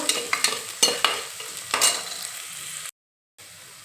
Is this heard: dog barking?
no